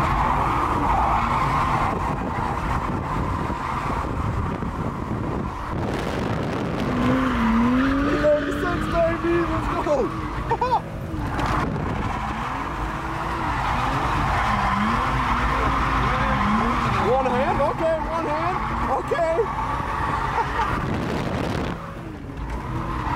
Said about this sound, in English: Overnight drift car, baby, let's go.